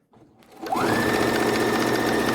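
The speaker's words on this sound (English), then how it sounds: "I'll continue sewing" A sewing machine starts up and runs steadily, stitching fabric for a simple gown, a close, continuous mechanical whir that quickly reaches full speed after a few quiet handling sounds.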